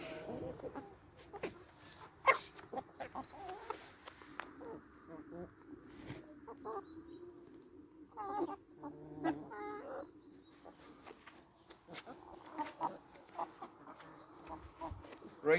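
Hens cluck softly in the background of a backyard flock, intermittent, fairly faint calls scattered over a quiet outdoor setting with no talking.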